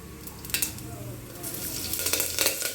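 Mustard and cumin seeds sizzle and crackle in hot oil, a steady frying hiss broken by brief stirring scrapes and pops close by.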